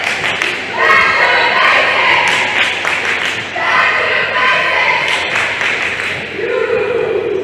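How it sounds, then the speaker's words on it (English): Loud crowd cheering and clapping echo through a school gym at a varsity volleyball match between Farmington and Hillsboro, with thuds and voices mixed into the steady noise. "You know, that was a great cheer."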